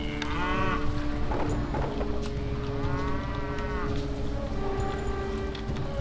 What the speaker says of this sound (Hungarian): Ezben még a teheneket is elnevezték így, hogy Daisy, Buttercup, Clover